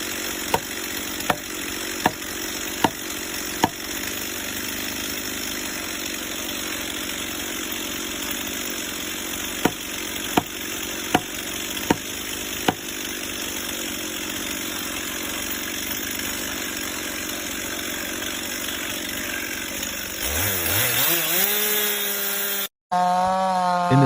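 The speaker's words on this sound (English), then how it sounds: "a worker was using a chainsaw to cut into a tree trunk" Gas chainsaw cutting into a tree trunk at night, engine droning loud and steady with sharp periodic clicks, then revving up in a rising whine near the end before cutting off briefly.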